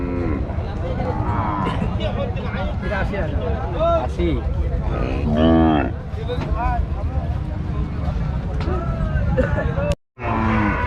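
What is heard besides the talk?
cattle mooing at cattle market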